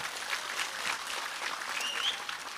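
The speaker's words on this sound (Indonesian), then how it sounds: "Tepuk tangan untuk Banser dan pemuda Pancasila." Soft, steady crowd applause at a religious sermon, honoring Banser and Pemuda Pancasila members, with a continuous patter of many hands at a moderate distance and no talk over it.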